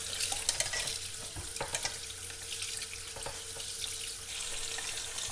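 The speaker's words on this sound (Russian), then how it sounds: "И индейку промываю под холодной проточной водой." Steady hiss of cold running tap water over turkey breast being rinsed, with soft splashing and a few light knocks, continuous and close, no voices.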